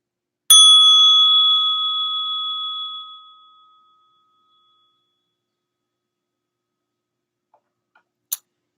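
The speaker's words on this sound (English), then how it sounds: "So I'll invite the bell again for us to return to our breath" A mindfulness bell struck once, ringing out clearly and decaying slowly over a few seconds into silence, followed by a faint tap near the end.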